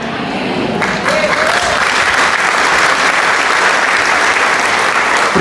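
A church congregation breaks into loud, dense applause during a Catholic sermon. The clapping stays steady and strong for several seconds.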